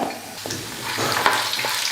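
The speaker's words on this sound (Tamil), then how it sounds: "பருப்பு நல்லா பொன்னுரெல்லாம் வறுந்து வரட்டும்." A steady, crackling sizzle of chana dal and urad dal frying in hot oil, close up, with light stirring scrapes now and then.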